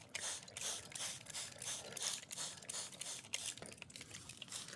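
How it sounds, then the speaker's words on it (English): A spray bottle spritzes water around the inside of a container, giving a run of quick, close hissing bursts with clicking trigger pulls and no talk. "we're just going to spray this container with 10 grams of water all the way around"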